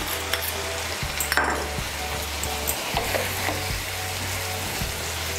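Spice paste stirred into raw pumpkin sizzling in a hot pan for a vegetarian curry, with steady frying crackle and soft scraping strokes of a spoon throughout, no talking.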